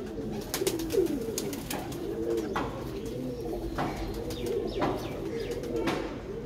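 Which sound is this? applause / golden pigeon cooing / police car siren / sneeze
golden pigeon cooing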